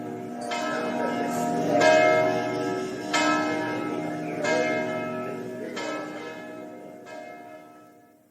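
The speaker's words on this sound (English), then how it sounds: "It's the bell of San Marco Square. It rings at noon at midnight." The large church bell of St Mark's Square, Venice, tolls slowly, about six resonant strikes spaced evenly, each ringing on with a long humming decay that overlaps the next.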